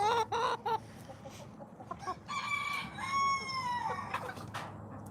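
Hens in a chicken coop cluck and crow in short, bright bursts, several birds calling near and loud, then a longer sustained call over a steady low hum.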